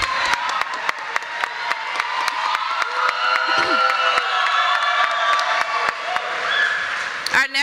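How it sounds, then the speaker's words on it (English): A university commencement crowd applauds and cheers for the university president, with dense clapping, whoops and crowd noise filling the hall, plus a few sharp louder claps close by. "Now, I will allow for you all to clap for him because he's the president."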